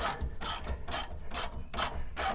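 A ratchet wrench clicks in five quick, loud bursts while working a threaded bolt loose, with no voices in between.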